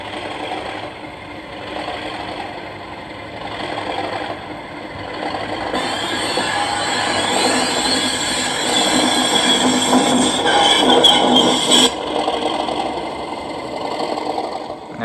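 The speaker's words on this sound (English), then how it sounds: "I'm also going to turn on the flange squeal sound, so as it goes around that set of points there, you'll hear that as well." An Accurascale Class 37/6 model locomotive hums steadily as it throttles up, then a high, whining flange squeal builds from around six seconds and cuts off near twelve seconds, close and fairly loud with no talking.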